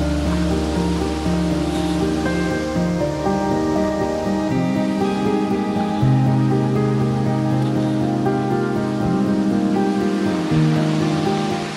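Steady, dense rain hiss fills the whole clip, with a low droning hum running underneath and no voices.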